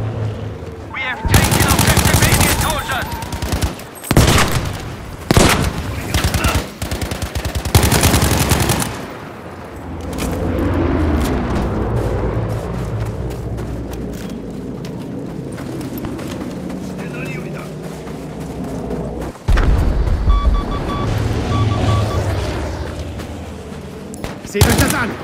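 Battlefield V gunfire and grenade explosions: loud, dense bursts of rapid shots and heavy blasts up close, easing into a rumbling battlefield din with distant firing and further sharp blasts, voices shouting over the action.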